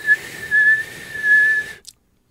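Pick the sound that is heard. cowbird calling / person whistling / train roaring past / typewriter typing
person whistling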